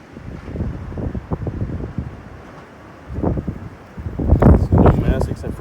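Gusty wind buffets a microphone outdoors beside a chainsaw being refuelled, with rumbling swells that fade and then build louder toward the end.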